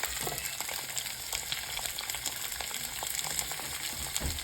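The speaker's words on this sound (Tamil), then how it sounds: "அதே மாதிரி இதில் நான் வெங்காயத்தை சேர்க்க போகிறேன்." Onions with mustard seeds frying in hot oil for an onion thokku, a steady close sizzle with scattered pops and crackles running throughout, no talking.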